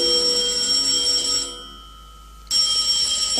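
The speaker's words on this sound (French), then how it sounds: "Le téléphone." Telephone ringing in loud electronic bursts, one ring, a brief pause of about a second, then ringing again, with no voices.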